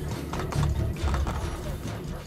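Horse hooves clip-clopping in Assassin's Creed Brotherhood on PS3, a steady run of thudding hoofbeats over low game rumble and mechanical clatter, moderately loud throughout.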